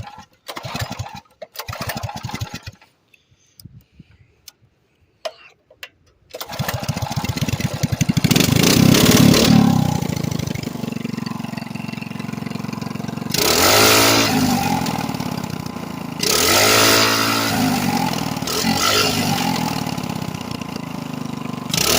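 Several short pulls and sputters, then the small engine of a Manco Critter 2 with a bigger carburetor jet, choked, catches and runs loudly, its pitch rising and falling as it revs unevenly.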